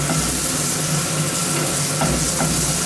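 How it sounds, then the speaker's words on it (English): Chorizo frying in a pan of its own released oil over a gas flame, giving a steady close sizzle and crackle with a low kitchen hum beneath and no talk. "Chorizo's now starting to cook"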